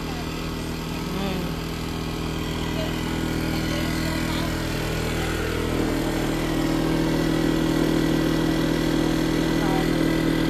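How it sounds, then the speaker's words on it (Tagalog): A gas generator runs steadily at a campsite, a constant mid-pitched engine drone that stays level and continuous throughout while people talk over it. "That's a generator."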